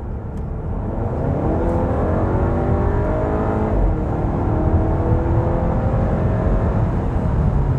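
A 2018 Volkswagen Tiguan with a diesel engine accelerates while driving, a loud, steady engine drone with rising tones as it pulls through the gears, heard from inside the cabin with no talk.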